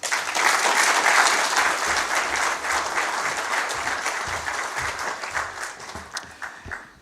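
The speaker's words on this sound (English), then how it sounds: "One more round of applause to her" Audience applause after Dr. Helen's remarks at a corporate sustainability report launch, a dense, steady clapping from a full room lasting throughout and tapering slightly near the end.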